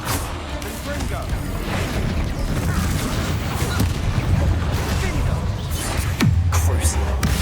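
The Confringo explosive curse fired in the Hogwarts Legacy action game: a dense, loud run of blasts, booms and crashing impacts that continues throughout, with one sharp hit near the end.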